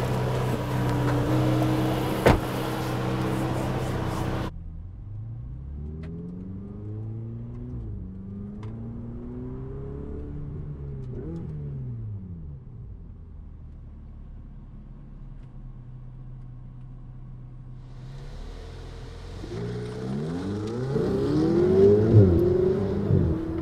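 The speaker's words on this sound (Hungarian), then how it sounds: "Kicsit olyan hangja volt az elcsúszás miatt, mint hogy csúszna a kuplungja, annyira gyorsan elfogytak a fokozatoktól, hogy összehalod a két fokozatot." A sports car, a Porsche 911 GTS or Ferrari 488 GTB, accelerates on a race track, its engine note climbing repeatedly through quick gear shifts, heard from inside the car and rising to a louder rush at the end.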